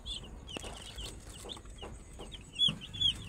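Young chickens, fifteen pet birds about 45 days old, make high peeps and soft clucks in short scattered calls, close by and fairly quiet, with light shuffling between them.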